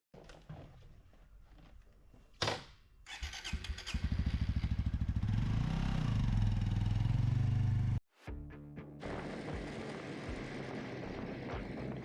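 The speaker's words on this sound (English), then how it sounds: "In this episode, we'll be talking about the Suzuki GSX 125. Let's go for a ride." A Suzuki GSX-S 125 motorcycle engine cranks and fires, then revs up loudly and steadily while riding. The sound cuts out briefly near the end and resumes at a slightly lower, steady drone.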